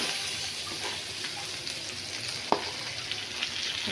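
Tangra fish sizzling with onions in a frying pan, a steady soft hiss with one sharp clink partway through, close and quiet.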